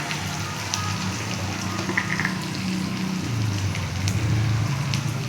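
Onion fries lightly in a pan, a steady close sizzle and crackle running throughout with no talking.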